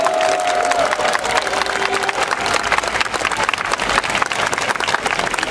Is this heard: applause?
yes